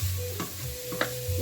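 Lithuanian goulash made with ground beef is stirred in a pot, a spoon scraping and knocking through the thick mixture in a few short strokes over a low sizzle.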